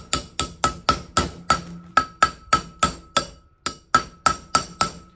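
Repeated metallic hammer blows driving a bearing race home on a Volkswagen Vanagon, about seventeen evenly spaced ringing strikes in a steady rhythm, loud and close.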